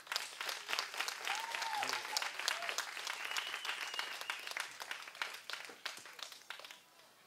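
Audience at a Tiehua Village live music venue in Taitung applauding to welcome a performer, with many distinct claps forming a lively crowd ovation, a brief cheer partway through, and a gradual thinning toward the end.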